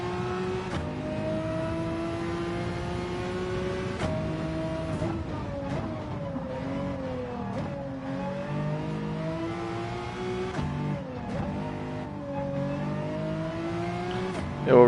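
Race car engine, a Pagani in a Gran Turismo 7 night endurance race, revs steadily and loudly throughout with shifting harmonic pitch and gear changes, close and continuous with no talking.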